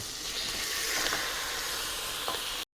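Chopped onion, whole garam masala and a kilo of beef pieces sautéing in a pan for beef maqluba, giving a steady, close sizzle with faint stirring scrapes.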